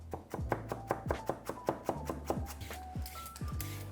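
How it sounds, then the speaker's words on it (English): A knife chops pieces of celery into smaller bits on a cutting board, with about a dozen sharp, close, evenly spaced strikes in a steady rhythm. "If your pieces of celery are a little big, then just go through them with the knife a few times to make them smaller"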